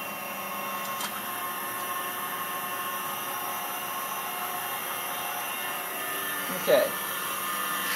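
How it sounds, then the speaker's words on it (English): Fatigue testing machine spinning, a steady continuous whine and hum running the whole time, with one brief louder tone near the end and a short spoken word. "So now we have the machine spinning."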